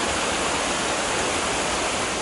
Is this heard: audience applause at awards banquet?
no